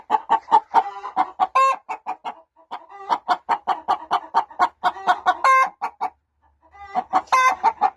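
A broody hen clucks close by in a rapid, insistent series of loud clucks with a few longer squawks mixed in, pausing briefly before starting up again.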